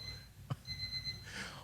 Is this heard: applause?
no